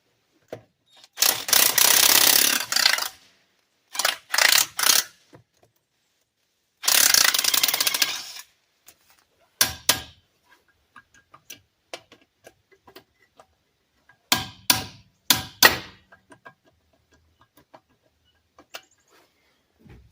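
An impact or ratchet wrench works rusty lug nuts on a 1998 Dodge Ram 1500 pickup in several loud, close bursts of rapid mechanical clatter, separated by pauses with scattered clicks and taps.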